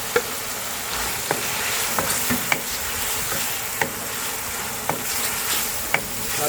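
Tomatoes fry in a pan for gravy with a constant loud sizzle, broken by light clicks and scrapes of stirring.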